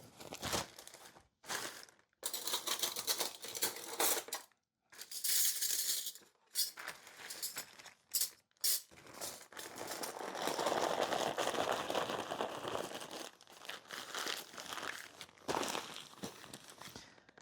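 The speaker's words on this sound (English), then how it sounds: "So I'm going to take some spoons here and we're going to wrap them in our packing paper." Spoons are wrapped in packing paper during packing for a move, with quiet crinkling and rustling coming in bursts, short pauses, and a few faint metallic clinks.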